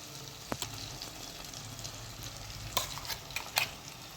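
Gravy being stirred into a frying tomato mixture in a pan for dhaba-style garlic fenugreek curry, with a soft steady sizzle broken by a few sharp scrapes and clinks of the spoon, alone and fairly quiet.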